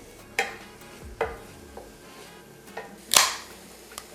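Garlic and sofrito stir in a soup pot with onions and meat bits, giving scattered scraping clinks and one sharp knock over a faint, low sizzle.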